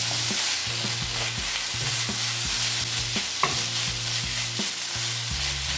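Black pepper and red pepper being stirred into a walnut börek filling, a spoon scraping in a steady repeated rhythm with a light sizzling hiss beneath, close and alone.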